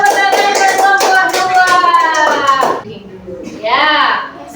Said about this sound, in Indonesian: Ya, tepuk tangan kelompok